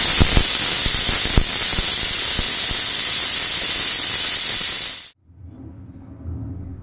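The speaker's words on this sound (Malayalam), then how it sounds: "ഇത് 3 സീറ്റി അടിച്ചെടുക്കാം നമുക്ക്." A pressure cooker on the stove cooking dal with fenugreek greens lets out a loud, continuous steam hiss for about five seconds. It cuts off sharply to leave quiet kitchen background.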